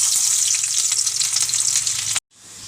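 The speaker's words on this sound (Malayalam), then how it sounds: "വെളിച്ചെണ്ണ കാഞ്ഞു വലിച്ച് ഉള്ളിയിടാം." Onions sizzling in hot coconut oil in a pan while making a Kerala fish curry: a loud, bright, continuous crackling fry that cuts off abruptly near the end, then resumes more faintly.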